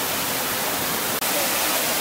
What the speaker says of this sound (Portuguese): na parte de baixo da cachoeira, com a aguinha caindo aqui